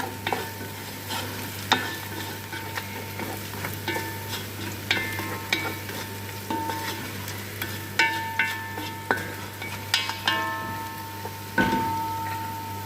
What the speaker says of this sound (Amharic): ከዛ የምጨምረው የቀራፋ ቅርንፉዱን ነው። አብሬ አቁላለዋለሁኝ ለሽታ ቆንጆ እንዲሆን።